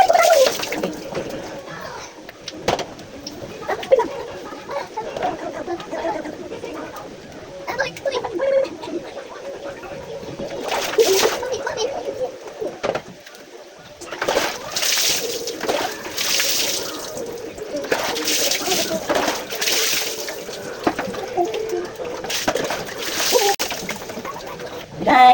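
Water splashes and sloshes as a child is bathed, irregular bursts of splashing at close range with pauses between, growing busier toward the end, with occasional voices.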